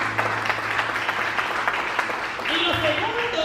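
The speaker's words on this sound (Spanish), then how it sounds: "Denle un aplauso al Señor." A church congregation claps and cheers for the Lord under a backdrop of sustained music and voices, the applause filling the room steadily.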